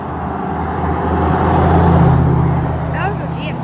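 A GMC vehicle passes by on the road near Rose Lodge, a rising and fading engine and tire roar that swells to a peak and eases away.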